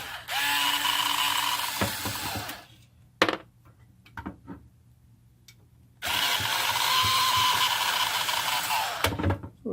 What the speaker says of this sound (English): So take a few screws out of the side.